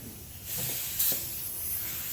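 A spray gun spraying carbon film coating starts with a soft hiss and settles into a steady, close spraying whoosh.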